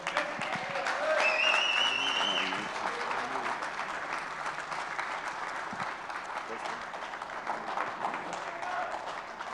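A church congregation claps steadily throughout, a moderate wash of applause with a voice and a brief tonal whistle rising over it early on.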